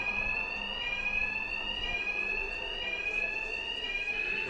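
In a Batman video game, an alarm bell keeps ringing as one unbroken, fairly loud electronic tone throughout, with no talking.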